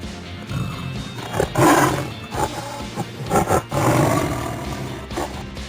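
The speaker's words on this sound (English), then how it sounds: "tiger," A tiger roars several times in close, loud, rumbling bursts separated by brief pauses.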